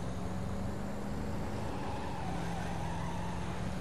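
A worn-out car's engine drones steadily in the Driver: Parallel Lines video game, a continuous loud roar with no speech.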